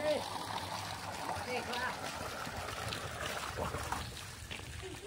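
Water pouring into an abandoned outdoor swimming pool, a steady rushing and trickling flow with faint splashes, heard with some background activity but no clear talk.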